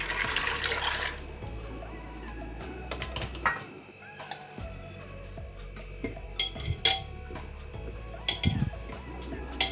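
Water pours briefly into a metal pressure cooker holding potatoes, followed by clattering and small knocks, all fairly quiet and close.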